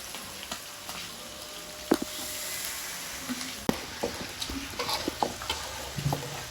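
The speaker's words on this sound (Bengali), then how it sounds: "মরিচের গুঁড়ো, লবণ। সুন্দর করে মশলাটা কষা" Spice paste with turmeric, chili powder and salt being stir-fried in a pan in a village kitchen, a steady sizzle broken by the scrape and clatter of stirring, close and alone.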